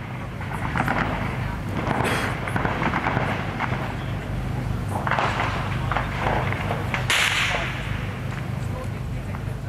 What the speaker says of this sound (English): reports of explosions and gunfire near the school siege.